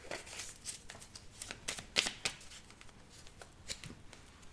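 A deck of tarot cards is cut and shuffled close by, with soft irregular riffling and flicking rustles spread through the clip, fairly quiet, and no talk heard over them.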